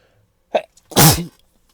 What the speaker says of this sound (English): I feel like I gotta sneeze